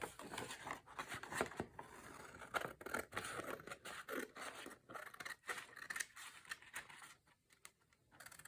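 Sticky scissors snipping paper for a junk journal, a run of sharp repeated cuts and scrapes in quick irregular rhythm, close and crisp, fading toward the end.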